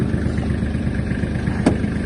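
A Kubota GL-320 Japanese mini tractor engine idles steadily nearby, a low continuous chugging with one brief sharper knock near the end.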